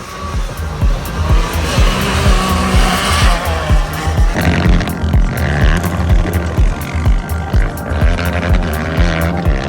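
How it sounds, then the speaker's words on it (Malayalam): SUVs and all-terrain vehicles off-roading across desert dunes near Dubai, with loud revving engines, tire noise and skidding in close, steady, rhythmic surges that go on without a pause. "ഈ മരുഭൂമിയിലെ ഓഫ് റോഡ് ഡ്രൈവിംഗ് കാണാൻ ഒരു പ്രത്യേക രസമാണ്"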